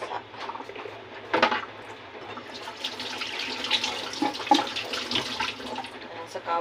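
Running water from a sink tap splashes steadily over an item being washed, with clattering handling noises, close by, and a voice speaking over it.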